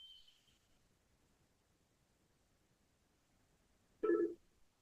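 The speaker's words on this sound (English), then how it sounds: "So I am now placing a call." A cell phone places a call, a short electronic tone at the start, then near silence, then a sudden louder burst of a ringing or connection sound near the end.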